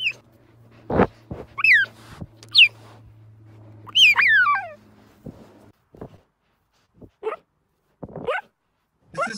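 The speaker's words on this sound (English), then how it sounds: "This is called chirring." A cheetah makes a series of short, high chirring calls with quick rising-and-falling pitch, close and intermittent, spaced among soft thuds and quiet gaps.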